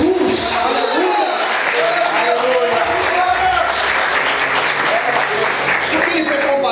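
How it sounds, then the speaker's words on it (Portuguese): A crowd applauds continuously at a church service, steady clapping filling the space while a voice speaks over it. "Você pode aplaudir e exaltar Jesus."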